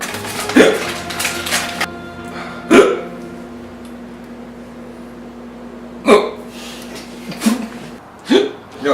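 Several sharp hiccups from one person, spaced irregularly across a few seconds, each a brief loud jolt standing out over a quiet room background.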